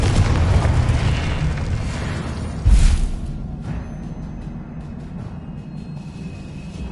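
Confringo blasting curse from Hogwarts Legacy explodes, a deep booming blast after a rumbling charge, then a fading crackle and quiet ambient tones.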